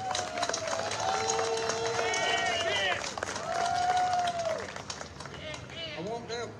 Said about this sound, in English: I'd like y'all to give a big round of applause for Kent Bartley